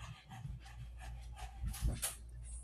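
A hot dog pants steadily and close by, quick rhythmic breaths running for a few seconds with no talking.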